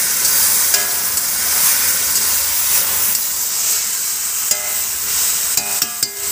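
Spices for soybean khichuri sizzling loudly in a frying pan as water is added, a steady close hiss of steam and frying with a few sharp clinks of a utensil against the pan near the end.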